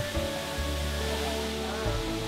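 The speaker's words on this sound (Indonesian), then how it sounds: "air terjun ini memiliki 7 tingkat dengan genangan air di bawahnya" The Serasah Murai waterfall in Harau Valley, a seven-tiered fall dropping into a pool, pours in a steady, dense roar of rushing water, continuous and fairly close, with a low rumble underneath.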